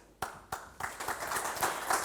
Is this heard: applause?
yes